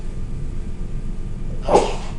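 A single short sneeze bursts out near the end, standing out over a quiet room hum.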